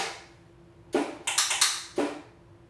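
Saxophone extended techniques from the first movement of a saxophone quartet: a handful of sharp, dry percussive pops and clicks, one alone, then a quick cluster of three, then one more, close and distinct.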